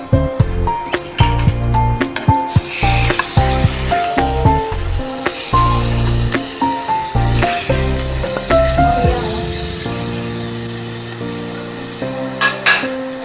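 Minced meat hitting a hot pan with lightly softened onions, sizzling and frying with repeated stirring and scraping strokes throughout, close and fairly loud, no voices.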